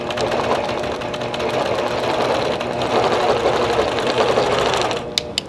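A longarm quilting machine stitches casings into leaders with a steady, fast mechanical whir and needle chatter that runs without a break, ending in a couple of sharp clicks.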